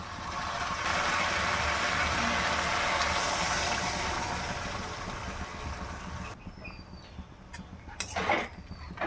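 Water poured into a pan of chital fish curry, a steady rushing splash for about six seconds that cuts off, followed by quieter clinks and faint kitchen noise.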